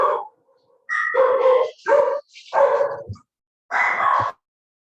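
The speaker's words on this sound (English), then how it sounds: "The dogs decided to bark in the midst of that." Several dogs bark and yip in short, sharp bursts separated by brief silences, close and fairly loud, with no one talking over them.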